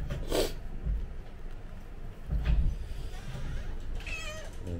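A cat in labour delivering kittens meows in short, strained cries, with a few soft vocal sounds and rustling between them, heard up close indoors.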